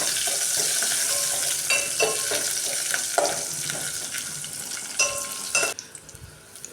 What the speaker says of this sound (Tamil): தட்டி வச்ச வெங்காயத்தை போட்டுக்கலாம் பூண்டு வந்து நான் தோலோடு தான் தட்டி வச்சுருக்கேன்